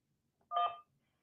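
A single telephone keypad tone, one short clean beep of about a third of a second, pressed once to accept an incoming call, heard alone against near silence.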